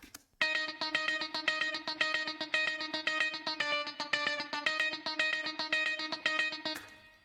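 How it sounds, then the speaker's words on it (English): Clean electric guitar playing a tight, repeating funk-style rhythm pattern, panned to the right, with steady evenly spaced chord stabs running for several seconds without pause. "clean guitar on the right-hand side"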